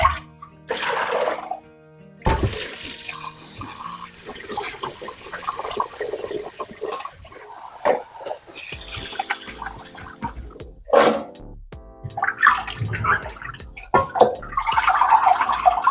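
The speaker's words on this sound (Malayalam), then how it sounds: "അരമണിക്കൂറിലേറെ സമയം എടുത്തു കേട്ടോ ഞാൻ ഈ ചിക്കൻ ഒന്ന് കഴുകിയെടുക്കാൻ വേണ്ടിയിട്ട്" Tap water runs into a kitchen sink while a large batch of chicken is washed for a festive meal, a steady splashing flow broken by short pauses and bursts of handling, close by and with no talk.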